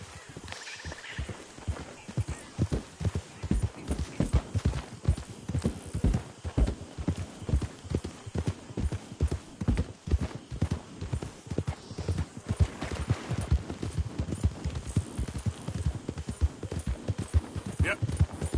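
Horse hooves in Red Dead Redemption 2 clip-clop in a steady walking rhythm while the horse is ridden, close and continuous throughout, with a faint voice now and then underneath.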